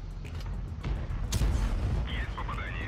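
Tank shell ricochet in WoT Blitz, a tier 7 tank battle: dull booming shot impacts and rumbling gunfire thud close up, followed by a bright metallic whine as the round glances off, with a voice talking over it.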